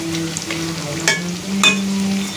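Jackfruit seed fritters frying in hot oil, giving a continuous close sizzle with a few sharp crackles and a soft clink or two as the pieces are moved.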